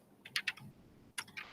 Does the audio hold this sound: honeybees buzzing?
no